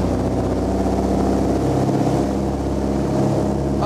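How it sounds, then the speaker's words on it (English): Aircraft piston engines on a 1930s-era tail-wheel plane roar loudly and steadily as they rev up during the takeoff roll, a dense continuous drone with a slight shift in pitch. "You can hear the sound of the engines now as they rev right up, and this is a takeoff roll."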